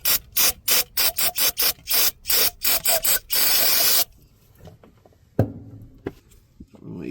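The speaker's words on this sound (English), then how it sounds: "I might hit that with the little spit of brake cleaner." Brake cleaner sprayed onto the oil filter housing of a Huayee HY35C during an oil change: about a dozen quick, loud hissing spurts in a choppy rhythm, then one longer continuous blast, followed by faint clatter and handling noises.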